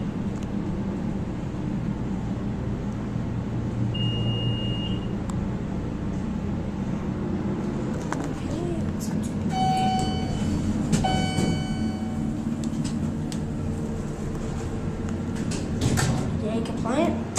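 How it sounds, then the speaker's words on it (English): A Montgomery/Kone hydraulic scenic elevator runs at Saks Fifth Avenue in the Fashion Show mall, giving a low steady hum. Short chime tones and door sliding sounds come through partway, with a voice talking over them. "This is the elevator at Saks Fifth Avenue. Bachelor Mall. Go. Scenic elevator."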